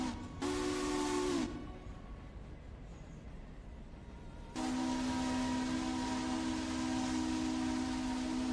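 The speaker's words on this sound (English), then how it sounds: "there's a train here" A train passes with its whistle sounding in two long, loud blasts, a short one and then a sustained one, over a constant rumbling background.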